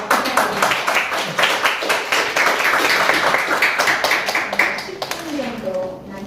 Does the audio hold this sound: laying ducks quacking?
no